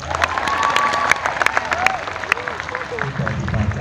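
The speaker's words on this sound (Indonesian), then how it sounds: "Tepuk tangannya, Mas." Audience clapping at an Islamic religious lecture at Ma'had Al-Jami'ah IAIN Tulungagung, steady crowd applause with scattered cheers and voices mixed in, continuing under a tonal whistle-like sound.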